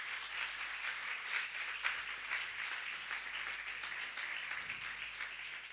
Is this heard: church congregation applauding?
yes